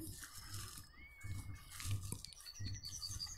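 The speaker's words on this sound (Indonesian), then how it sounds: "ah suara burung" Faint bird chirps and short whistled calls in an outdoor setting, with soft low rumbling and a trickling, watery background.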